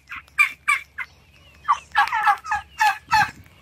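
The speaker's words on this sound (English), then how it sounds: "the turkeys have gotten a lot bigger" Flock of turkeys gobbling close by, a series of loud, rapid, warbling calls in quick bursts, with several gobbles overlapping in the second half and no talk.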